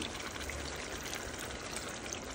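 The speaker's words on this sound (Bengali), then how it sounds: "পরিমাণ মতো একটু গরম পানি দিয়ে দিচ্ছি।" Hot water is poured into a pan of cooking bata fish curry, giving a steady, soft, hissing wash of pouring and splashing that runs quietly and evenly throughout.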